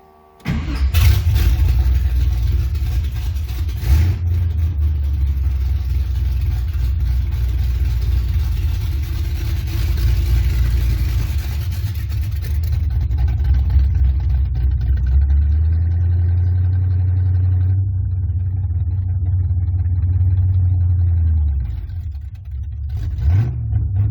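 A loud Camaro engine with its exhaust removed cranks and starts, then rumbles at a rough idle with deep throaty revs rising and falling before shutting off.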